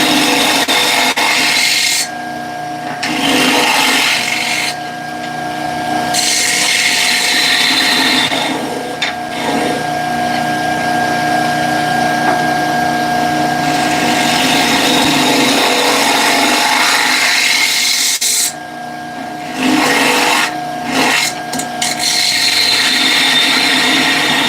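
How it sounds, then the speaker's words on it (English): A gouge on a woodturning lathe cuts a small wooden bowl, with a loud, continuous rasping shear over the steady motor hum. The cutting breaks off several times for short pauses before the tool bites again. "And I do like pull cut and a shear scrape"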